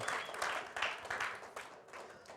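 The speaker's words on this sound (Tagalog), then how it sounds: "Pwede bang bigyan natin ng isang malakas na palakpak po ang Panginoon?" Congregation clapping during a Filipino church service, a fairly faint and uneven patter of claps in loose rhythmic bursts that taper off toward the end.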